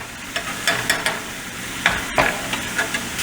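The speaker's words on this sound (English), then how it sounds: "we have really good frying action here" Sofrito fries and sizzles in a pan with a steady crackle, punctuated by intermittent stirring scrapes, close by with no talking.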